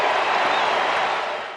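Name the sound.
baseball crowd booing turning into cheers at Citizens Bank Park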